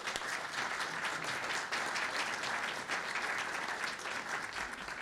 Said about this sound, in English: please join me in a warm round of applause for Doron Weber